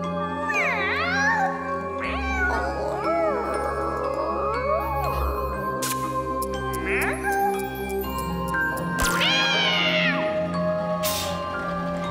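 A cartoon cat meows repeatedly in rising and falling wails, with tinkling jingles and a low hum underneath, several calls spread across the stretch.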